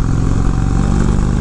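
Indian Chief Dark Horse motorcycle with a 111-cubic-inch engine, stock, pulling up a small hill: a steady, loud low-frequency engine rumble under load, continuous throughout with no voices.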